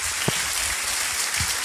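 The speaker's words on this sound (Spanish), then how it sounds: "Un aplauso," Brief, dense applause from a meeting audience for a doctor, a continuous wash of clapping with no voices.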